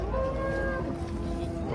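A calf at a cattle market lets out a single drawn-out moo, clear and fairly close over a low background murmur.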